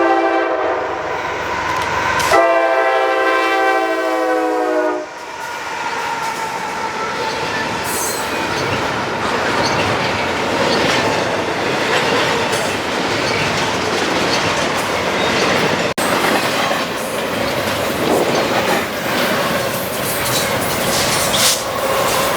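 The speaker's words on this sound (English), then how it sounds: "NS 257 heading towards Chicago, with a NS C6M leading a Tier 4 GEVO and a pair of ACUs on the rear." A Norfolk Southern freight train led by a C6M locomotive with a Tier 4 GEVO and trailing ACUs sounds a loud horn blast, then roars steadily past close by with rumbling wheels and clattering cars.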